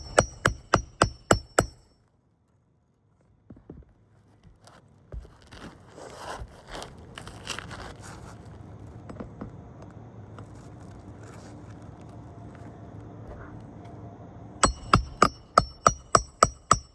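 Nails driven with a hammer into roofing: a quick run of sharp, evenly spaced blows, a gap of shuffling and scraping with low background rumble, then another rapid series of close, loud strikes.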